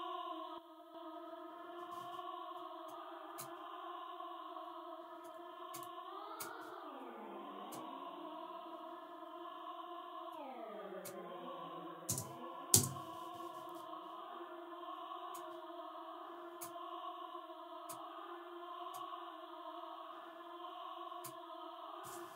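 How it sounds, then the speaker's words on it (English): A melodic house synth line built in Ableton plays sustained layered tones that bend and swoop, with echo repeats trailing off each phrase and a few light percussive ticks at a soft, even level. "We are also going to add some echo."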